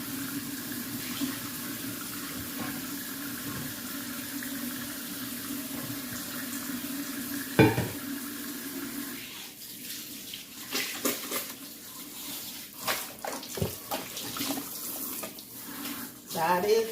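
Water from a kitchen tap runs steadily into a sink while it is rinsed out with bleach water after cleaning fish, a continuous splashing wash with clatters and shifting flow, and a voice speaks over it.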